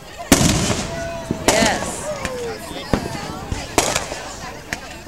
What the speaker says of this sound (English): People will applaud when the big fireworks start to go off.